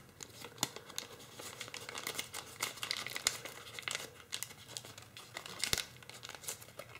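Origami paper being reverse-folded while making a Hello Kitty cat model gives faint, close crinkles and crisp rustles in irregular bursts, with occasional sharper creasing snaps.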